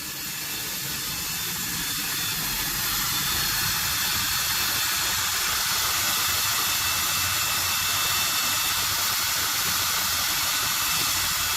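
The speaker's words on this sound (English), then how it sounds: "check out this whirlpool in here where it's mixing" Rhubarb wine swirls in a mixing whirlpool, producing a loud, steady rushing hiss like spraying liquid that swells slightly at the start and then holds constant throughout.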